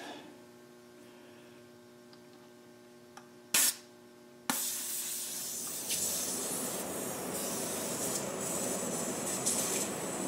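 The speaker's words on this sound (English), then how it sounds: "First we gotta pull out the air valve." Air rushes out of a trailer tire once the valve core is pulled, a sharp burst followed by a loud, continuous broadband hiss that fills the rest of the clip after a quiet start with faint hum.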